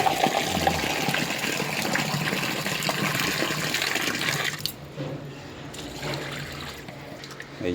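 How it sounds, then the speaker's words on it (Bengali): Puti fish being washed in water, a steady rushing and splashing of running water close by that eases off partway through, then continues with softer sloshing. "এই যে পুঁটি মাছগুলো সব ছাড়িয়ে নিচ্ছে, ভালো করে ধুয়ে পরিষ্কার করে দিচ্ছে"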